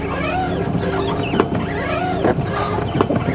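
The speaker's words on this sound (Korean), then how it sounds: "와이퍼 소리 이 정도면 정상 아닌가?" Windshield wipers of a 1995 Hyundai Avante 1.8 manual sweep back and forth in a regular rhythm, squeaking and thumping at each turn, heard from inside the car.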